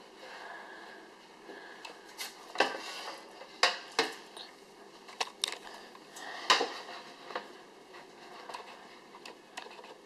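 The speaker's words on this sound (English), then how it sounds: "I'm just going to grab the pan." A metal pan is handled in an oven, making scattered clanks, scrapes and rattles of metal on metal at irregular intervals against a quiet background.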